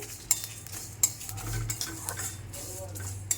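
Cumin seeds dry roasting in a pan with the gas turned off as a metal spoon stirs them, producing sharp clinks and scrapes against the pan over a faint sizzle.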